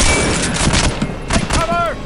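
Gunfire in Soldier of Fortune II: Double Helix during a Switzerland hostage mission, loud close shots rattling in a quick cluster amid game noise.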